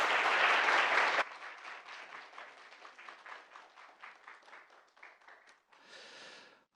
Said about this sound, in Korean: 팀원들에게 여러분 힘찬 박수 부탁드리겠습니다